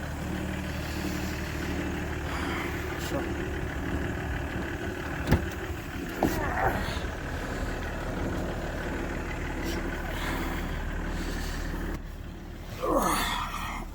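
A steady low engine rumble idles throughout, with a few brief knocks and a faint passing whoosh near the end, from a BMW E46 330Cd M Sport with the exhaust back box deleted.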